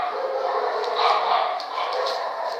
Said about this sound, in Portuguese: Nossa, cachorrada agora